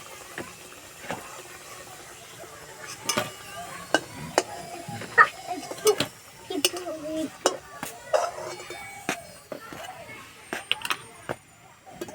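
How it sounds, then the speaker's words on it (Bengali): A flour-and-onion tiffin snack fries in a pan with a soft sizzle, broken by repeated sharp clicks and scrapes of a utensil. A voice talks quietly at times. "একটু টাইম নিয়ে ভাজতে হবে, নাহলে ভেতরটা কাঁচা থেকে যাবে।"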